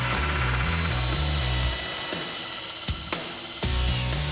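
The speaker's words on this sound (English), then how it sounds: "I'm going to try to drill out the lock to get to the money compartment." A power drill bores into the lock of a 7-Eleven store safe, its motor whirring in stepped pitches. It cuts out partway, then sharp metallic clanks and short grinding bursts follow before the drilling resumes.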